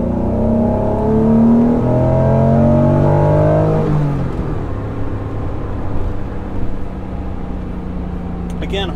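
A high-mileage Acura NSX engine, around 320,000 miles, revs and holds near 2500 RPM during diagnostics for a hesitation, a loud steady drone with rising then settling tones, close and continuous.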